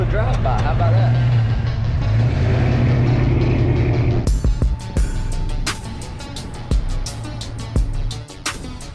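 A Ford Mustang Fox-body drives past with a loud, near engine rumble that fades into scattered clattering knocks as it moves away.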